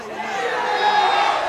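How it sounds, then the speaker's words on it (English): Arena crowd in the WWE 2K19 wrestling video game, a dense rising swell of many voices cheering and chattering, loud and building over a short stretch. "And the crowd reacting in turn to the words of James Mendoza."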